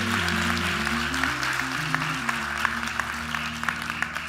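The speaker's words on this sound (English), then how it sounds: "y'all clap for her" Audience applause at a Sunday church gathering, steady moderate clapping throughout, set over sustained organ chords that shift underneath.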